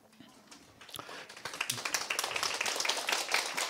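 A lecturer claps during a Korean real-estate exam prep class, a run of quick sharp claps building in loudness over a few seconds in a quiet lecture room.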